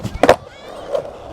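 Skateboard trucks grinding along a ledge at an outdoor skatepark, a short loud scrape burst near the start followed by a fainter rolling tail and a small second knock.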